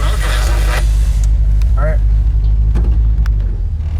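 A stock 350 V8 in a 1972 Chevy Nova idles through its dual exhaust, a loud, steady low rumble that fills the whole stretch while someone speaks briefly over it.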